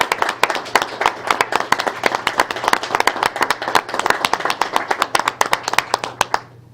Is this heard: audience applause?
yes